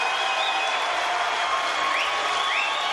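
A crowd at the Mosconi Cup pool event breaks into dense, sustained applause after a shot, steady and loud for the whole stretch, with scattered whistles rising above the clapping.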